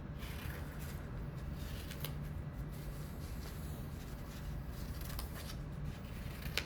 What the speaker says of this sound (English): now I'm going to be cutting out some triangles